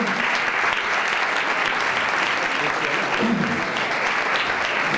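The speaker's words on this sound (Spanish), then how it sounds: "un aplaudiment pel nostre pianista" An audience at a lecture session claps for a pianist, a dense, steady round of applause that stays loud and even from start to finish, with a voice briefly heard underneath.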